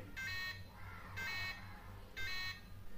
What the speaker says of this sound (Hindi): हमें थ्री टाइम बीप साउंड सुनाई देगा